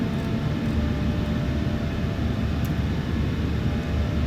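A Boeing 737-800 airliner climbs after takeoff in a flight simulator game, with a steady, dense engine roar holding at an even level throughout and no voices.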